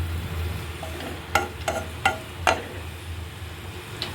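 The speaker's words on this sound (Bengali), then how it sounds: "এখন নাড়াচাড়া দিচ্ছি" Cardamom and cinnamon frying in about two and a half spoons of oil give a low, steady sizzle, broken by four or five sharp clinks and scrapes of a spoon stirring against the pan; no one speaks.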